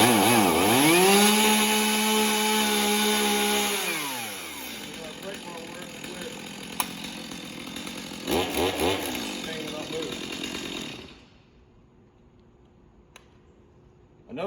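A chainsaw started by the drop method runs loud and near, its engine revving and then settling to a steadier idle before it cuts out, followed by near silence.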